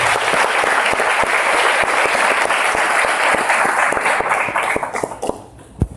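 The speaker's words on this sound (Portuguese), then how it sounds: "E quem pode aplaudir o Senhor nesta noite?" A church congregation bursts into sustained, loud applause, dense clapping filling the space for several seconds before thinning out to a few last scattered claps.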